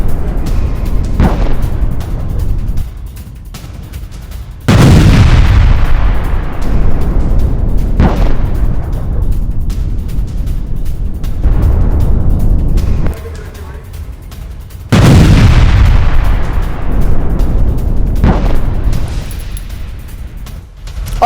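An IED blast destroys a monument in Rafah, heard as sudden loud booms that start abruptly and then rumble and decay over several seconds, repeated twice at close range, with a voice talking in the background.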